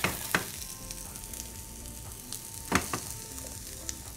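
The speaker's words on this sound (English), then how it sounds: "So we're putting the carrot, Romanesco, cauliflower." Carrot, Romanesco and cauliflower fry in a pan with a soft steady sizzle, broken by a few sharp clacks of stirring and no voices.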